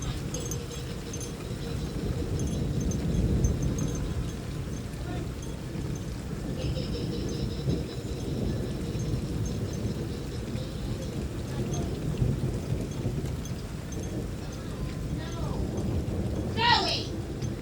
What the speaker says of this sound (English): How is it still thundering?